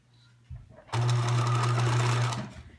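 A sewing machine stitches a drawstring bag: a short start, then a loud steady whirring hum for about a second and a half before stopping, close and alone.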